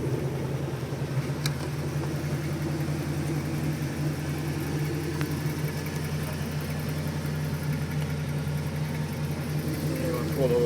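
A Maserati Quattroporte III, not run in a while and a little smoky, idles steadily with a low, even engine hum throughout, close by with no break in the sound.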